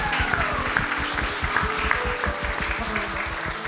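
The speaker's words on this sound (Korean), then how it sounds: "우리 하나님께 영광의 박수 드리겠습니다" Congregation in a church at an Easter service giving a round of applause: steady, dense clapping from many hands filling the room for the whole stretch, fairly loud and close.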